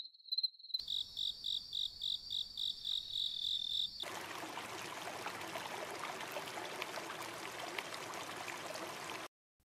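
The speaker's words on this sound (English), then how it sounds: "The streets were silent, except for the chirping of crickets and the distant hoot of an owl." Crickets chirping at night, added as a sound effect: a steady pulsing series of high chirps for several seconds, then a dense continuous buzz of insects with a soft watery trickle underneath, clear and uninterrupted.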